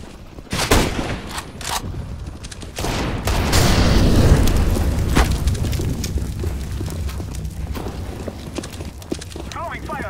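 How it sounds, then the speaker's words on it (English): A flashbang grenade thrown in Counter-Strike: Global Offensive, with loud bursts of gunfire and a sharp bang amid chaotic game noise and sustained rumble, while players talk over it. "I'm throwing a flashbang."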